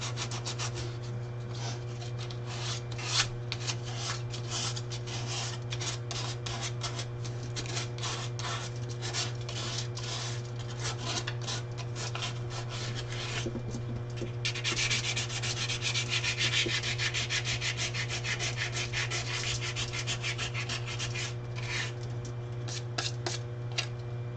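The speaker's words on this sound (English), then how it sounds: "That's all the sanding I'm going to do." Epoxy sculpt on a wasteland-style headdress being sanded by hand, a steady close scratchy rubbing that runs on without pause, growing a little brighter and harsher partway through, over a constant low hum.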